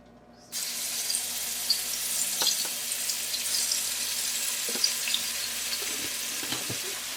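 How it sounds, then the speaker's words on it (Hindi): Ginger garlic paste hits hot oil and starts a sudden steady hiss, continuing as a constant close sizzle with occasional small pops and spoon taps, with no talking. "अच्छी तरह से फ्राई करेंगे जब तक इसमें से अच्छी सी खुशबू ना आ जाए।"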